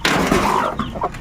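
A native mother hen sitting on eggs clucks close by in a backyard coop, a short run of throaty, uneven clucks and soft chatter over a noisy background.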